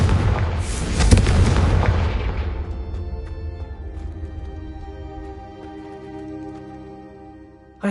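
Confringo spell blasts from the Hogwarts Legacy video game burst out loud and close, a heavy booming explosion whose rumble fades into ringing, magical tonal debris, with a fresh impact hitting at the very end.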